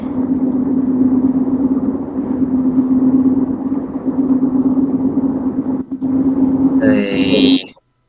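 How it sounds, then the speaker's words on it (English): A car's engine rumbles as a steady, close, droning hum for several seconds, briefly dips, then ends in a short higher tonal sound before cutting to silence. "The car noises."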